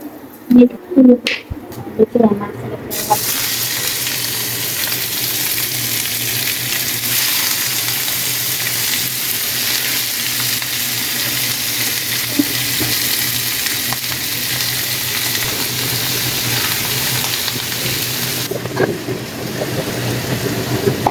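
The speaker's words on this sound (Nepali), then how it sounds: "फ्राई प्यानमा राम्रोसँग फ्राई गर्छौँ। फ्राई गर्छौँ है। नुन र बेसार मात्रै राखेर मजाले" Chicken frying in a frying pan with salt and turmeric gives a loud, continuous sizzling hiss that runs steadily for most of the stretch, after a few brief clatters at the start.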